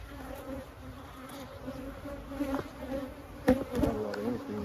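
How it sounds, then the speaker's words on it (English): Honey bees buzzing around a hive during a yard inspection, a soft steady drone with a few individual bees passing close, under a hissy outdoor background. "but I know there's not a lot of bees"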